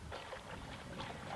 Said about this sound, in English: That's the fuel gushing in.